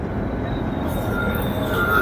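A train at a New Delhi station platform gives off a steady, loud mechanical rumble, with a faint thin squeal rising near the end.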